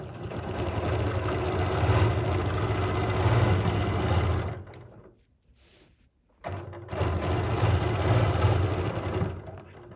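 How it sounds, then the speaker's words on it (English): A sewing machine fitted with a ruler work foot stitches in the ditch along a quilt seam, a steady close motor whir that stops briefly midway and then resumes at the same pace. "I'm setting this about 1/4 of an inch away from that seam so I can stitch in the ditch"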